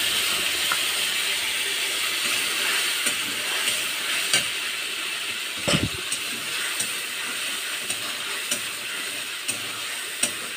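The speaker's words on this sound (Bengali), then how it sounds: "আগে মশলাটা কষাই নিচ্ছি" A spice mix fries in oil in a pan with a bay leaf, a continuous close sizzling hiss broken by scattered sharp ticks and a brief scraping stir, with no voices.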